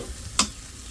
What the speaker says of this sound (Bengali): মাংসটুকু এখন কষায় দিব ভালো করে